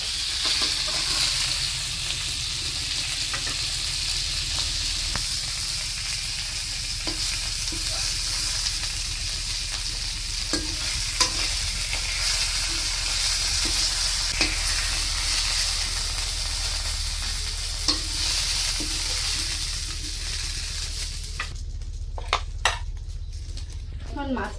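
Sea fish (mormo) frying in mustard oil in a pan, a steady close sizzle and hiss throughout with occasional clinks of a utensil against the pan, and a brief clatter near the end.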